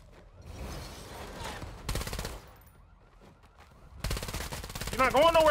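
Automatic gunfire from the vampire battle-royale video game Bloodhunt, dense rapid bursts in several stretches with gaps between, growing louder toward the end where a voice is also heard.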